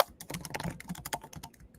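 Rapid clicking of keys on a computer keyboard, a quick uneven run of sharp taps close to the microphone, with no voices.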